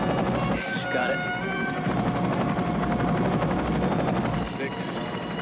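A helicopter hovers a few feet from a wall during a mountain rescue, its loud rotor thumping and turbine whine filling the whole stretch while voices talk over it.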